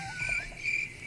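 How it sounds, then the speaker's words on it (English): A cricket chirping sound effect plays on its own, with two clear, steady trilling bursts at moderate loudness and no talk. "When'd you put the crickets on"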